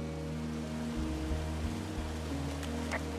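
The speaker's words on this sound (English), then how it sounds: "It's a really nice waterfall down here." A steady, dense rush of falling water from a waterfall in the Firewatch video game plays close and full for the whole stretch, with a low rumble beneath and faint tonal game sounds layered over it.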